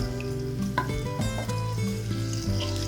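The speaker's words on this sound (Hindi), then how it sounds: "ये 1 प्याली घी है। इसमें ये अदरक पेस्ट हल्का सा भूने" Ginger paste frying in a cup of ghee while being stirred: a steady, close sizzle with soft scraping of the spoon, no speech.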